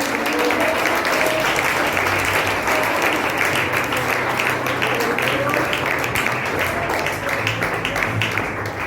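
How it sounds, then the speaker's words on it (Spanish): A church congregation applauds during a sermon, with dense, sustained clapping that stays at an even, loud level throughout, and voices and cheers can be heard mixed into the crowd noise. "Dele ese aplauso, Señor."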